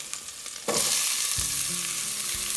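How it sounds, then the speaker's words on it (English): Chopped onions hit a hot pan of green chilies, with a sharp burst of loud, close frying sizzle that keeps going. A few light stirring knocks sound under the hiss. "And I'm going to add the onions to it."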